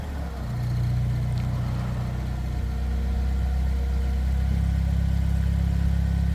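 A Fiat 500 engine idles steadily at close range, a low continuous hum with a slight rise in level after the first second and no talking.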